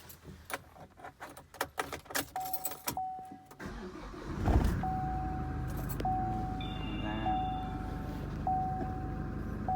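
A Chevrolet pickup truck: keys jangle and the ignition clicks, then the engine cranks, fires and settles into a steady idle, with intermittent beeping chimes.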